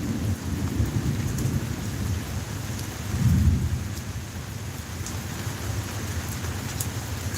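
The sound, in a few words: thunder and rain sound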